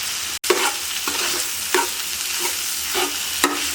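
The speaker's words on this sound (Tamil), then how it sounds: "இப்போ இது நல்லா இந்த தக்காளி, வெங்காயம், இஞ்சி பூண்டு கூட ஒரு 2 நிமிஷம் வணங்கட்டும்." Tomato, onion, ginger and garlic sautéing in a pan for a mutton liver fry, with a constant close sizzle and several rhythmic stirring scrapes, one sharp tap near the start, and no voices.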